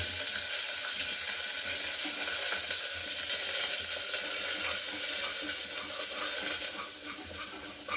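Vegetables and spice powder frying in a pan, with masala and sambar powder added, give a steady, dense sizzle that holds evenly throughout, close and continuous with no voices.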